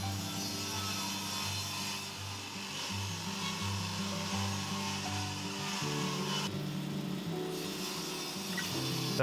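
A table saw rips a 45-degree miter cut through taped veneer plywood for a cabinet carcass, giving a steady, loud whining drone with strong low hum that continues unbroken throughout, no talking.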